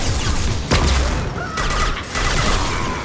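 Rapid gunfire from a Mass Effect 2 Legendary Edition firefight rattles continuously for about three seconds, loud bursts overlapping with booming impacts and no voices.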